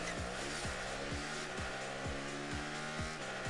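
A synthetic racing engine in Rocket League revs in repeated rising bursts, about eight rapid gear-shift whines in a row, loud and close with a steady hum beneath.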